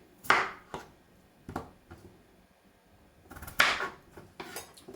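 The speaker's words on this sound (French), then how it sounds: "On va venir prendre la pomme de terre comme ça. On va la découper en deux." A knife chopping through a potato on a cutting board, cutting it in half and then into quarters: sharp, close thuds in uneven groups, two louder strikes standing out among softer taps.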